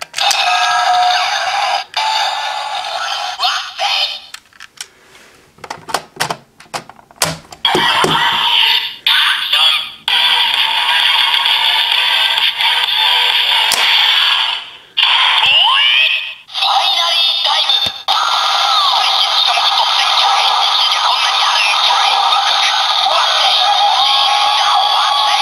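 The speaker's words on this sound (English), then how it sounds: "that activates the transformation into Kamen Rider Waz Ginga Wakusei form" A DX Ginga Miride Watch toy from Kamen Rider Zi-O blares its Wakusei form transformation audio, loud electronic announcements and music with clicky button presses and short pauses, running continuously near the device.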